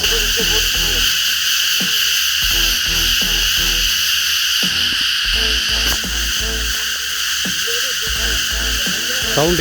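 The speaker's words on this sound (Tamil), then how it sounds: "இந்த மலை வண்டுகள்லாம் இருக்கும் பார்த்திங்களா, அதுங்கெல்லாம் கூட்டமாக கத்துதுங்க" A dense, loud chorus of mountain insects in deep forest, a constant shrill drone with layered rhythmic croaking and chirping pulses underneath, steady throughout.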